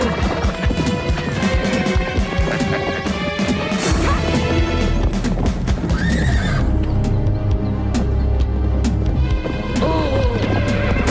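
Horse whinnying loudly with clip-clop hooves and a crash, in the Spanish-dubbed animated series Sylvan, over a continuous music score.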